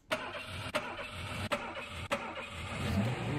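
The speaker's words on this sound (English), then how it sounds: "Let me start this car up." A car engine in a strategy video game cranks and catches, four sharp ignition clicks at regular intervals over a running mid-pitched motor that swells slightly toward the end, with no talking.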